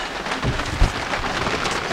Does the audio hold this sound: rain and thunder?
yes